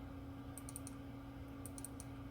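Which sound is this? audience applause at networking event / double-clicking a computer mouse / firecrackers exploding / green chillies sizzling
double-clicking a computer mouse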